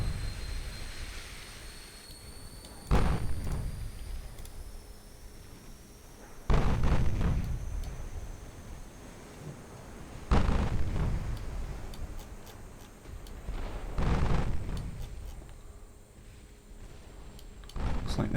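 Naval gunfire from warships in a WWII-era US campaign strategy game, with shells striking a conning tower and upper works: four heavy booming impacts land at roughly even intervals, each a loud low thud with a decaying rumble, over a quiet steady hum.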